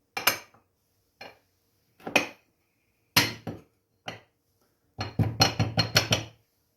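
A ramekin is handled on a small plate in a kitchen, giving a handful of separate ceramic clinks and knocks, followed by a quick, busier cluster of taps.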